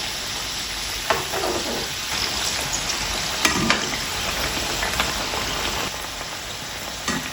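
Stuffed flatbread made from flour and leftover curry frying in oil on a pan, a continuous close sizzle with occasional sharp taps and pops as it is handled and turned.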